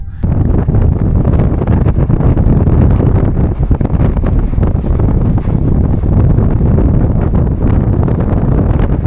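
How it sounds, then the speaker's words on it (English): Strong wind buffets a microphone outdoors at a seaside timeshare resort in Gran Canaria, a loud continuous rumbling roar that never lets up across the whole stretch. "It's a little wind, but it's so different."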